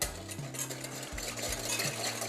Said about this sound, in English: So we mix, we whisk.